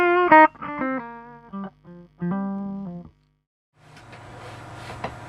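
Electric guitar played through a B.K Butler Tube Driver valve pedal into a clean channel, lightly overdriven single notes and short phrases, then a brief pause and a quieter, gritty strummed passage.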